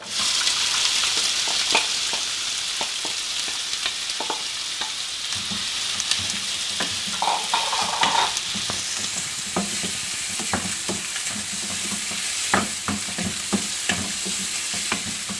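Finely chopped onions frying in hot oil in a pan, sizzling steadily while a utensil stirs them with frequent clicks and scrapes, close and clear with no talking.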